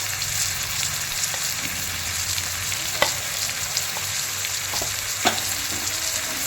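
Small fish coated in ginger-garlic paste and spices sizzle steadily in a pan, cooked village-style with raw tomato and potato, with a few soft scraping stirs cutting through the continuous frying hiss.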